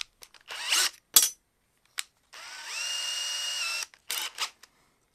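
A power drill whirs steadily for about a second and a half, its pitch dropping as it bites into the side of a cable end, between scattered handling clicks and rustles.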